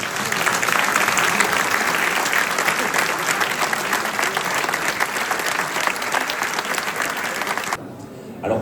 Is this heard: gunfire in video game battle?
no